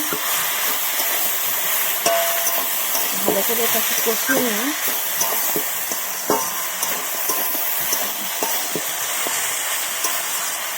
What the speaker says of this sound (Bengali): সব রকম বাটা মশলা দিয়ে ভালো করে ওটা কষিয়ে নিয়ে